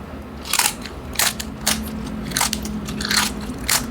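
Crisp, crackly bites into the hard, crunchy skin of a roast pork lechon, about six sharp crunches spaced through the stretch, close and loud over a steady low hum.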